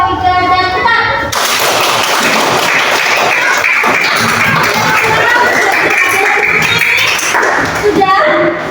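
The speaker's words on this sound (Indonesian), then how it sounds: "Tepuk tangan untuk kelompok 1," Classroom audience claps for presenting groups, a dense burst of close applause kicking in after a brief voice and running steadily for several seconds before fading as talk resumes.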